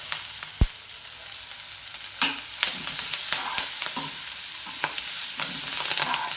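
Onion fries in a pan with curry leaves added, giving a steady close sizzle broken by a sharp clack and repeated spatula scrapes and taps, with no talk.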